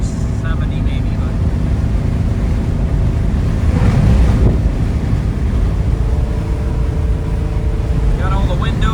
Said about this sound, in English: I know you probably hear a little bit of air moving, but kind of what you get when you got a hard top with all the windows down